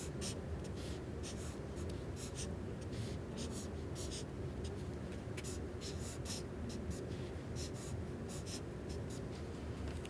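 A marker drawing on a mathematics work mat gives soft, intermittent scratchy strokes in short bursts, faint and close over a quiet room hiss.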